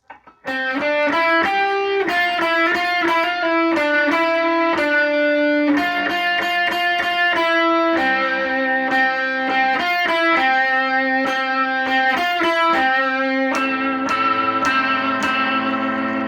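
A heavily distorted electric guitar plays a fast phrase of repeated picked notes, loud and sustained, with no voices.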